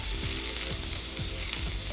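Onion frying in oil in a pan, a steady loud sizzle with faint scraping clicks throughout, no talking.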